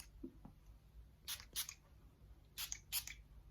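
Guerlain French Kiss perfume sprayed from its bottle: four short, hissing spritzes in two pairs, close and fairly quiet, with a faint click or two at the start and no talking.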